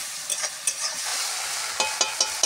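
Food frying in a pan ahead of potato and eggplant, a steady close hiss of sizzling oil broken by several sharp spatters and stirring taps, with no voices.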